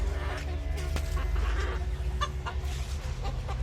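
Imported ornamental chickens cluck softly in short scattered calls over a low steady background hum, close and fairly quiet.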